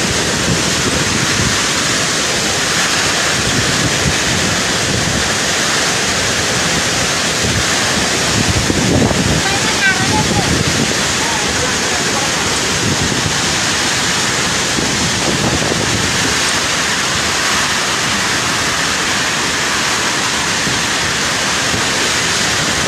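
Strong storm wind and crashing waves on a coast during a gale, a loud continuous roar with heavy microphone buffeting, recorded from indoors close to the shore.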